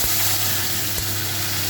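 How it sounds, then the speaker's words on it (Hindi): Tadka tempering sizzles in a pan while cooking vegetables, a steady close crackling hiss with a brief stir or clatter near the middle, no voices over it. "अब ये सब तड़का लग गया ना, ये तड़का हो गया"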